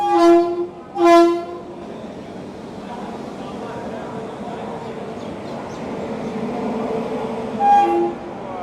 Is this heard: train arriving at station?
yes